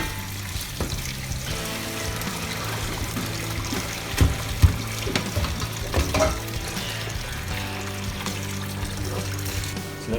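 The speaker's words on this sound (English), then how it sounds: "All right, my cold water running and ready." Cold water runs from a kitchen tap while pho and fried chicken noodle soup are being made, a steady hiss and trickle under a few nearby clatters and knocks.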